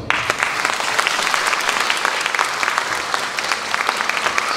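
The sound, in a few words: applause at a folk choir anniversary concert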